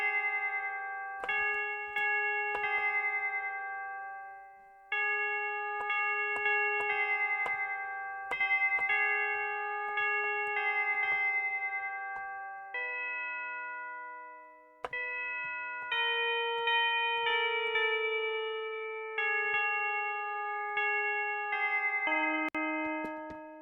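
Bright, ringing electronic bell synth notes from an electronic music track, playing a steady repeating melodic pattern with clear sustained tones and slight decay, alone without voices.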